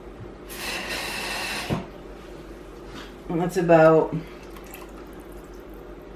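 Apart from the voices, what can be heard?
adding water to pasta sauce pot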